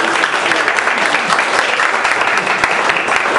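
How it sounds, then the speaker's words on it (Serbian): An audience at a literary almanac book launch applauds the first speaker, with loud, continuous clapping filling the room. "aplauz za prvog govornika ništa"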